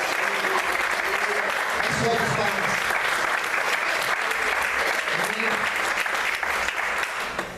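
A church congregation applauds during a sermon, a thick, sustained roar of clapping lasting several seconds, with voices calling out briefly over it before it tapers off at the end.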